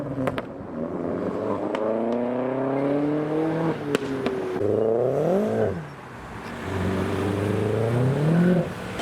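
Modified Mazda RX-8 pulling away hard from a car show, its rotary engine revving high through rising and falling pitch sweeps, gear changes breaking the climb, loud and close with crowd noise behind.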